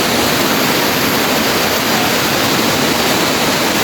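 A forest river rushes past during an outing, a loud, dense and unbroken roar of flowing water with no breaks or voices.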